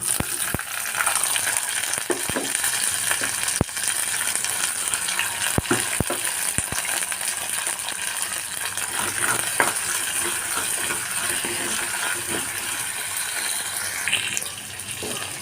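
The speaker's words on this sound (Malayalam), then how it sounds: "ഇഞ്ചി വെളുത്തുള്ളി മൂത്ത് വന്നിട്ടുണ്ട് ഇനി ഇതിലേക്ക് ചെറിയ ഉള്ളിയാണ് ഇട്ട് ഞാൻ ഇട്ട് കൊടുക്കുന്നത്" Shallots, ginger and garlic frying in a pan for a fish curry, a steady loud sizzle with occasional sharp clinks of stirring throughout.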